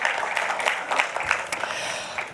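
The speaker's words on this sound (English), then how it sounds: "Can we give him one more round of applause?" A festival audience gives a round of applause after an onstage conversation, a thick, continuous wash of many clapping hands with small swells, moderately loud and without voices.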